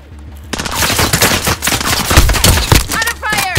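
Gunfire in the Call of Duty: Modern Warfare video game, loud close bursts of rapid automatic fire with overlapping shots, starting abruptly after a brief quiet moment.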